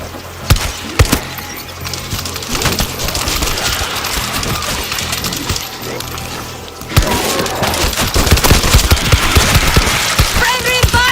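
Gunfire rattles in the World War Z video game, with rapid bursts of shots, glassy impacts and crashes. The firing grows denser and louder after a brief break, and voices speak over the action.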